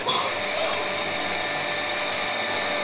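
A powerful mixing machine whirs loudly and steadily while blending chocolate for macarons, a continuous high-pitched motor drone with no talking.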